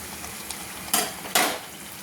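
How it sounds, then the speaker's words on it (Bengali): Eggplant slices coated in gram flour batter drop into hot oil in a pan, giving two sharp bursts of sizzling over a faint, steady frying hiss. "আবার আমি বেসনে বেগুন ডুবিয়ে বেগুনি ভাজার জন্য ছেড়ে দিচ্ছি"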